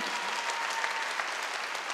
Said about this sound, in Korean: 읽은 사람만 박수하게